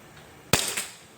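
A single sharp gunshot pops once from a plinking gun, close and loud, in an otherwise quiet space.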